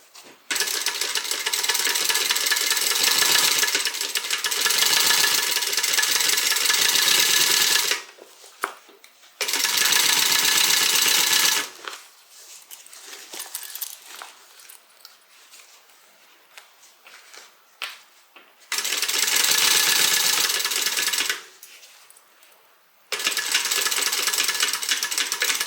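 Sewing machine stitching the gusset seam of a Compton Carryall fabric bag at a quarter-inch allowance, running in steady rapid bursts of several seconds with brief quiet pauses between runs.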